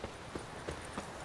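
Horse hooves clip-clop in The Witcher 3, four distinct hoofbeats spaced evenly at a steady walking rhythm, moderately loud over a soft game ambience with no talk.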